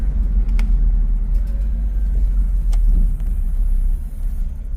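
An Acura RSX fitted with paddle shifters rumbles from inside the cabin as it drives, with a heavy, steady low engine drone. A slight dip in the drone near the end could be a gear change.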